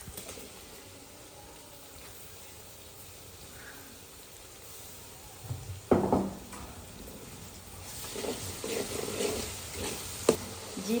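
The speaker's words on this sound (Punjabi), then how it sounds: "ਲਸਣ ਅਦਰਕ ਜਿਹੜਾ ਵਾ ਨਾ ਥੋੜੀ ਦੇਰ ਲਈ ਨਾ ਮੈਂ ਫਰਾਈ ਕੀਤਾ ਪਿਆਜ਼ਾਂ ਦੇ ਨਾਲ" Onions frying with pounded ginger and garlic in a pan in a village kitchen, a steady soft sizzle with louder stirring scrapes and clatter near the middle and end, faint birds cooing in the background.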